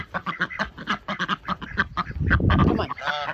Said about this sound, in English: All right, ducks, you go in.